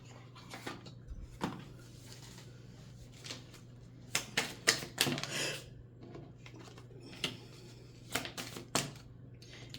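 A deck of cards being shuffled during a card reading, giving quick papery riffles and soft slaps in scattered bursts, close and fairly quiet.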